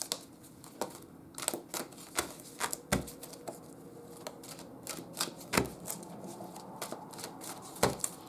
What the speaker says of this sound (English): And I am going to pull an oracle card.